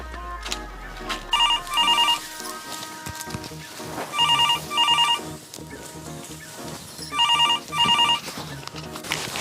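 A telephone rings on an outgoing call, with four bursts of paired trilling rings separated by pauses, heard over background music and some low noise.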